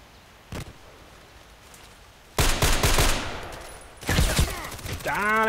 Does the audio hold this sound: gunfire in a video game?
yes